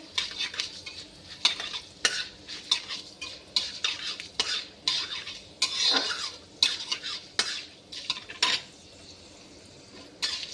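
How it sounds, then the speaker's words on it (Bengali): Mustard seeds and asafoetida tempering in hot oil in a wok, stirred with a utensil: repeated scraping clinks and short bursts of sizzle at an uneven rhythm, fairly close, with no voices. "তো আমি এখন হিং সরষে সব কড়াইয়ে দিয়ে দেবো। আমি দিয়ে পরে একটু নেড়ে নেব।"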